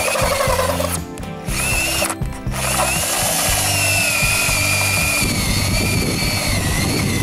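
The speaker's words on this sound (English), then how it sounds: "We're simply drilling a hole in the side of this PVC well casing" A hole saw cuts into the side of a PVC well casing, with a loud grinding power-tool whine and rhythmic chattering, two brief pauses early on, then a steadier rough cut until the end.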